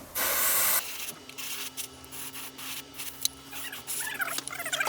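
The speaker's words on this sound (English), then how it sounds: "you find yourself doing it with a trigger brush because it's more like a spray can" Gaahleri Swallowtail 3-in-1 trigger airbrush spraying paint: one loud, close burst of hissing spray lasting under a second, followed by quieter intermittent hissing and faint room noise.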